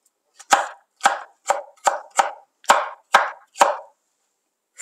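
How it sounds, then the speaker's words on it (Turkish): A knife chops a tomato on a board: eight crisp, evenly paced cuts in a row, close up, with silence between strokes. "Domatesimi de doğruyorum"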